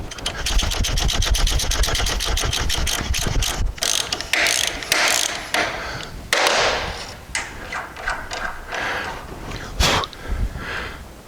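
A tap cutting fresh threads on a seized ENV or Spicer halfshaft end gives dense, rhythmic ratcheting clicks, then irregular metallic scraping and grinding bursts as it works along the thread. The sound is close and fairly loud, with no talk.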